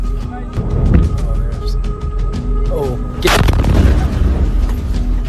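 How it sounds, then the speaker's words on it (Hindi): Iranian missile attack explosions recorded by a US soldier: a loud, heavy boom strikes partway through over a constant roaring background and earlier rumbling thuds, with voices present. "यहां अमेरिकी सैनिक ईरान के मिसाइल अटैक को रिकॉर्ड कर रहा था।"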